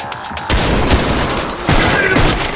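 Machine gun fire in a military shooter game, two loud dense bursts of rapid gunfire with booming reports, close and harsh, each cutting in abruptly and holding for about a second.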